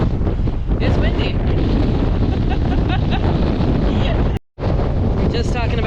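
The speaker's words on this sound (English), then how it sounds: "It's windy." Strong hurricane-force wind buffets the microphone in Key West during Hurricane Ian, a loud continuous roar with gusty surges and a brief dropout near the end.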